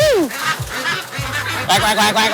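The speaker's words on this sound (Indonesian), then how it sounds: "ratusan ekor bebek hidup yang didatangkan dari Subang, Jawa Barat disortir terlebih dahulu dan dicek kesehatannya sebelum dipotong" Hundreds of live ducks from Subang, West Java, quack and honk loudly at close range while being sorted and health-checked before slaughter. Their raucous calls overlap in a dense, continuous chorus.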